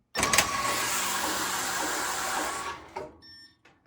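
Passap E8000 electronic knitting machine running a row of tubular hem at the end of a blanket, a steady mechanical whirring of the carriage that stops near the end, leaving a few small clicks.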